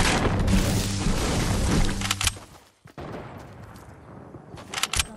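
Rapid gunfire rattles loudly in a video game sniper shootout, a dense volley of sharp shots that stops abruptly. After a brief hush, a few sparse cracks ring out at middle distance.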